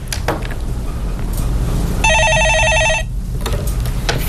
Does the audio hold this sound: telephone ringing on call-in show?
yes